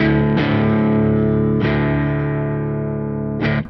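Sustained electric guitar chords ring out through an Engl Savage Special Edition amp on a clean channel, struck three times and left to decay, with a clean, full, slightly shimmering tone and no voices.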